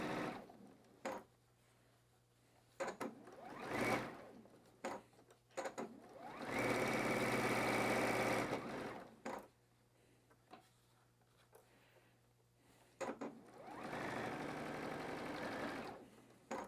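A sewing machine stitches pieced quilt blocks in several separate runs, each a steady whirring burst of a second or a few seconds, one long run in the middle, with quiet pauses in between and no talking.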